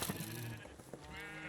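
Sheep in the video game Minecraft bleat in a few short, wavering calls, soft and fairly quiet, with no one talking over them.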